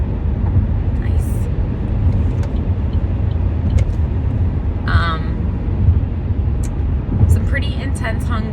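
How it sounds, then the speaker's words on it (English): A bus pulls out into road traffic just ahead, heard as a loud, steady low engine rumble and road noise from inside a nearby car, with a few brief higher hisses and squeaks over the drone. "This bus just pulled right out in front of me."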